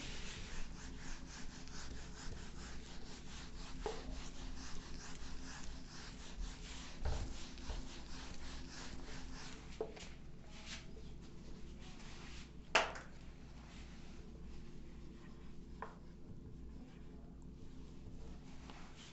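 A pen writes on a board in a steady, close scratching and rubbing rhythm that continues throughout, with one sharper tap partway through.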